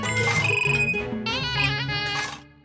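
A phone rings with a repeating electronic melodic ringtone, loud and close, its tones shifting pitch over a couple of seconds before cutting off.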